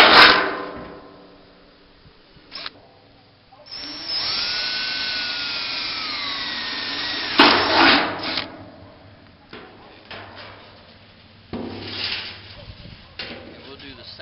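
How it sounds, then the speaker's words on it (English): A power drill whines through a metal barrel in several bursts, one long sustained bore followed by shorter runs, with clunks and handling noises between. "we're going to go ahead and pre-drill them all out"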